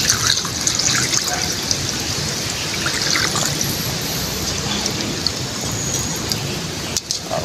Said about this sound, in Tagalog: Lalagay na tayo ng tubig, pampalambot naman.